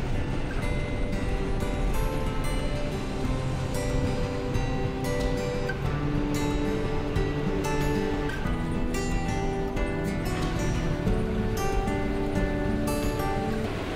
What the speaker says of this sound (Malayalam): ഇതാണ് ചീയപ്പാറ വാട്ടർഫാൾസ്